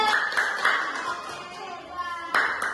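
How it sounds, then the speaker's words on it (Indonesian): Children clap in a classroom for a student group after a presentation, a short burst of hand claps with sharp individual hits, as a teacher's voice and kids' chatter run alongside. "tepuk tangan untuk kelompok 3"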